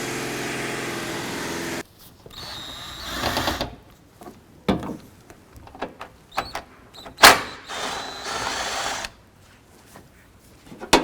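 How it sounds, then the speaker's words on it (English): An 8mm socket on a power driver spins out bolts from a 2001-2007 Ford Escape wiper motor, with a steady whir at first, then short bursts of ratcheting and clattering. "we're going to use an 8mm socket and remove this bolt here"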